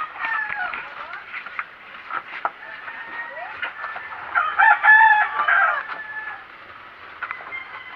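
Chickens cluck and a rooster crows in a rural morning yard, the calls repeating throughout at moderate distance with a louder burst in the middle.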